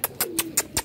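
Pigeons sheltering in shade from summer heat give a soft series of five quick, rhythmic coos, close by and fairly quiet, with no talking.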